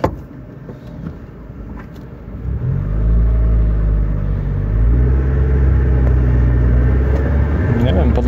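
A Mazda Miata with a 1.8 engine drones steadily while driving, its low rumble rising and settling into a constant hum, with people talking over the engine noise inside the car.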